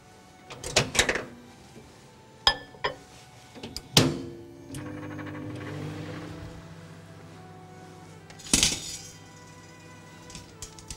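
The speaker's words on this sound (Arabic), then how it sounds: "وهدوب الجيلاتين في الميكرويف." A microwave heating gelatin hums steadily for a few seconds, framed by sharp door clicks and clunks before and after.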